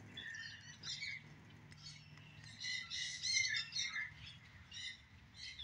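Birds on a kangaroo ranch, home to about 500 birds and other animals, give repeated squawks and chirps at moderate distance, rising and falling in overlapping bursts against steady outdoor background noise.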